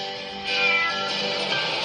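A kitten gives a single clear, drawn-out meow, close and fairly loud, lasting over a second with no other sounds around it.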